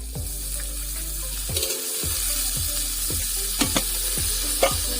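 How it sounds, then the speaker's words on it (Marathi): Green chilies fry in a little oil on a hot griddle, giving a loud, steady sizzle broken by regular scraping stirs. "आता आपण मिरची तव्यावर टाकलेली आहे।"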